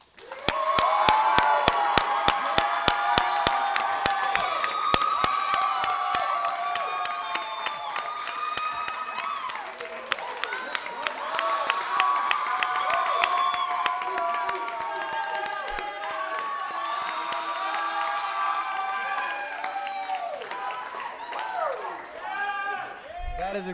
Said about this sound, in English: now please join me in a big welcome for the candidates Connor Paquin, Jake Rogers, and Joy Sullivan